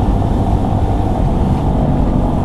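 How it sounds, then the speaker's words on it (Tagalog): A CFMoto Papio XO-1 small motorcycle cruising in fifth gear on a ride to work, its steady engine drone mixed with dense wind rush, loud and continuous with no talking. "minsan lang tayo maka 5th gear sa motor na to."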